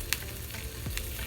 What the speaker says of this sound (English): as you are frying, you're going to make sure the sausages